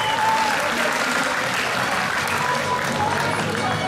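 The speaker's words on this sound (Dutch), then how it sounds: "ook een applaus voor deze beide Thai boxers" An audience at a Thai boxing event applauds two fighters, producing loud, continuous clapping that fills the hall without pause.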